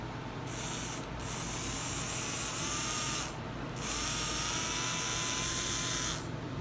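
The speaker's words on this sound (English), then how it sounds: "So you can give the motor a little test run with a 9-volt battery" A tiny electric motor from a Power Passers Mustang toy car runs on a 9-volt battery, giving a steady high-pitched whine in two bursts of a few seconds each, close and alone.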